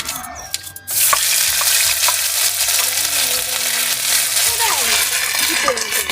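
Ginger paste hits hot oil already holding fried dried red chilies and a bay leaf for vegetarian ghugni. A quiet start bursts into a loud, close sizzle that keeps crackling, with light clinks of stirring.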